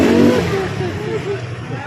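Road traffic with car engines revving and accelerating up close, a steady low rumble with rising engine tones, people talking over it.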